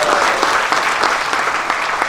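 An audience claps in a dense, loud, sustained burst of applause at a talk on national outlook, with many hands blending into an even roar and no break.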